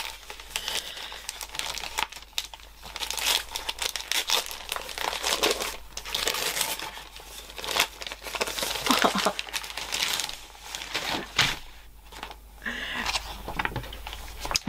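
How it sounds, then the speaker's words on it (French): Crinkling and rustling paper as a small Christmas swap gift package is unwrapped close up, a steady busy stream of crisp crackles and tears lasting throughout, with no talking. "je vais ouvrir le deuxième petit paquet"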